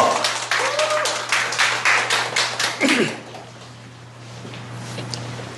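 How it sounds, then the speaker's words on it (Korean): Audience applause at a party members' speech event, a round of rhythmic clapping over a steady low hum that fades out after about three seconds, leaving quiet room tone. "큰 박수 부탁합니다"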